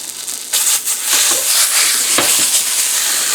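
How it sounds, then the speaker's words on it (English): Refried beans hit a hot pan and sizzle loudly and steadily, with a few scraping stirs as they spread out. "while the pan's hot, we're going to add"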